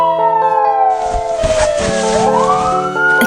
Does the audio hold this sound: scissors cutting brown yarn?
no